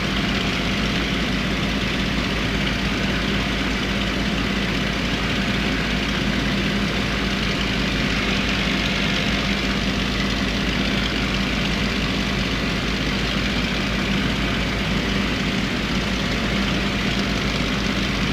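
A Supermarine Spitfire engine in flight over east-coast villages, a loud, steady, unbroken propeller drone heard from inside the cockpit for the full length.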